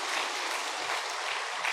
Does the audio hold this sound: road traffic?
no